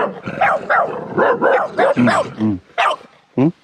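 A dog barking up close in a run of loud, sharp barks and yips, some with a whiny edge, spaced irregularly with short gaps between them.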